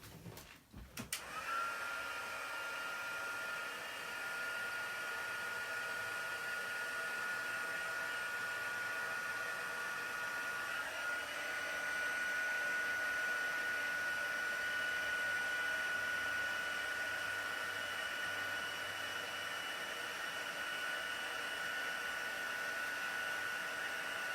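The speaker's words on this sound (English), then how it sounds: "I'm going to use my heat gun to melt this down." A heat gun blows steadily for nearly the whole stretch, melting embossing powder over an inked stamped sentiment, a constant close airy roar with a sustained whine and no talk.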